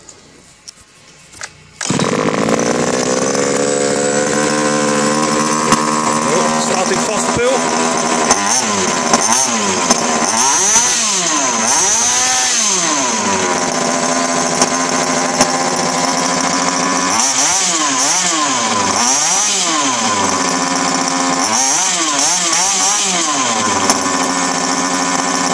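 An upgraded Yama RC buggy petrol engine starts up and buzzes loud and close, settling into a shrill idle before repeated sharp revving bursts rise and fall in pitch, with no talking.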